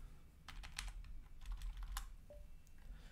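Rapid typing on a computer keyboard while setting up an Ubuntu MATE installation: bursts of close, crisp key clicks with short pauses, no voices.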